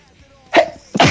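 Two quick, explosive sneezes in a row, close and loud, each a sharp burst of breath and voice, the second coming just after the first.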